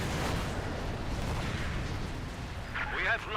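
A bazooka fires at an Ostwind anti-aircraft tank in Company of Heroes 2 amid a continuous roar of battle noise and rumbling artillery, with a brief sharper burst near the end.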